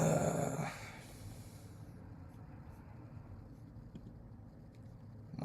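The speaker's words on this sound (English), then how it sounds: "My dog Bubba" Bubba the dog growls and breathes close by, a louder burst at the start settling into low, steady rumbling breaths that run throughout.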